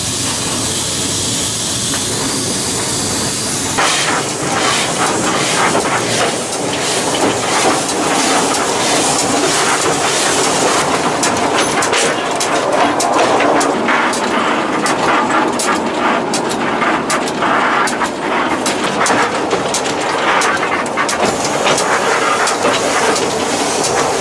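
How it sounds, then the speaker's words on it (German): A coal-fired steam locomotive pulls its carriages along a narrow-gauge railway as it approaches a station, with continuous hissing steam, rumbling and rhythmic chuffing and wheel clatter, loud and close throughout. "Der Zug fährt an den Bahnhof heran."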